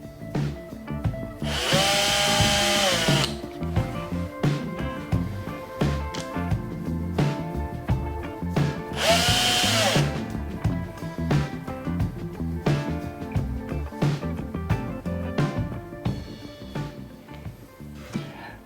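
An electric drill bores holes into a handmade wooden box with a fine drill bit, two loud sustained whining bursts of several seconds each standing out over steady workshop background music.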